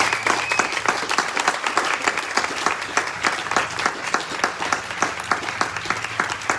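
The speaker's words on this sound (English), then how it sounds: "let's give a round of applause for Linda" Audience applause for a departing board member at a ribbon-cutting ceremony, sustained, dense clapping from a crowd filling the room throughout, fairly loud and close.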